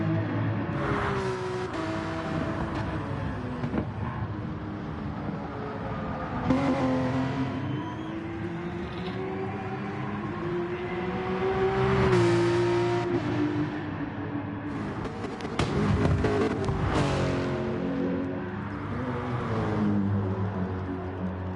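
Race cars in GT Sport lap Mount Panorama, engines droning and shifting pitch continuously across the whole stretch, with louder swells as cars rev and pass close by.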